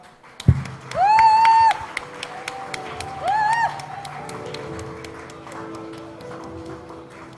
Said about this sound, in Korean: 호명되는 인원을 뜨거운 박수로 맞이해 주시기 바랍니다.